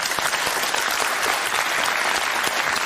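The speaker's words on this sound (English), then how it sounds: "Round of applause from the audience." Studio audience applause, dense and steady, many hands clapping together at close range for the whole stretch with no voices over it.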